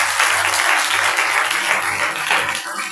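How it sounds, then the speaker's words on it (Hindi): A church congregation at a Christmas service breaks into loud, steady applause, a dense continuous patter of many hands clapping close by for the whole stretch. "जोरदार तालियां हो जाए।"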